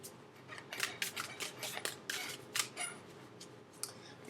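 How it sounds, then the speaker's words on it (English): Tarot cards being shuffled in the hands, a series of quiet crisp riffling bursts and flicks spaced irregularly, close up and soft with no talking. "3 more shuffles."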